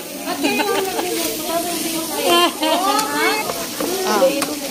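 Vegetables for bulanglang or ginataang gulay being stirred in a hot pan, a steady close sizzle and scraping running throughout beneath overlapping voices talking.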